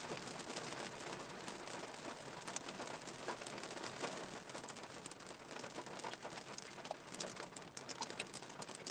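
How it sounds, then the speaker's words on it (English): Steady rain falls outdoors in a constant, even hiss of pattering drops, with faint bird calls mixed into the background. "Can you guys hear over the rain?"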